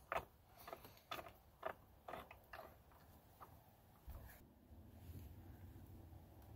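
Ratchet wrench snugging down the battery hold-down bolt on a Volkswagen Jetta mk5, a series of close, sharp mechanical clicks in short bursts, followed by a low rumbling handling noise near the end.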